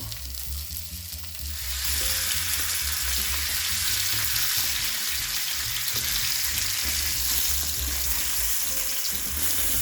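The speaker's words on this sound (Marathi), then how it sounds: "आता आपण त्याच्यावरती एक एक मासा फ्राय करून घ्यायचा आहे। तोही शालो फ्राय करायचा" Bangda fish shallow frying in hot oil on a tawa, a loud steady sizzle that swells after a quieter start and holds close and continuous throughout.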